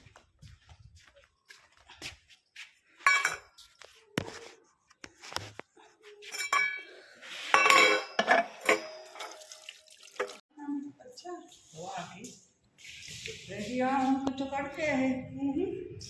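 Coriander is rinsed under a running kitchen tap, with a steady rush of water near the end and a few light clinks of utensils earlier. A voice talks throughout at close range.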